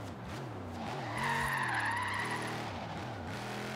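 Tires squeal and skid as a car drifts in Forza Horizon 3, a Dodge Charger R/T, with a loud engine droning steadily underneath and the screech peaking midway through.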